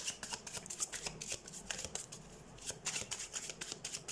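Tarot cards are shuffled by hand up close, a soft run of quick papery riffles and flicks that repeats rhythmically and stays quiet throughout.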